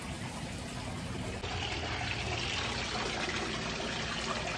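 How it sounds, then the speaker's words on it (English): Water flows steadily through a gold cleanup sluice, washing concentrates from three five-gallon pails of Lake Superior material. The rushing, trickling flow stays close and constant throughout, without speech. "we'll run it across my cleanup sluice and see what we get"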